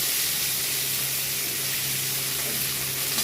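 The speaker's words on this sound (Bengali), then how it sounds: "এবারে আমি তেলে দিয়ে দিলাম দুটো টমেটো" Two tomatoes fry in hot oil, following earlier-fried okra, giving a loud, even sizzle and spitting hiss that holds steady throughout without any talk.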